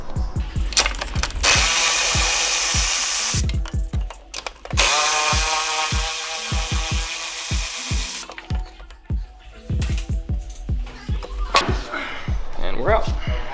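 Top shock mount bolts on a Ford Focus ST being removed with a deep 13 mm socket on an extension, loud sustained hissing air-tool bursts alternating with sharp ratcheting clicks up close.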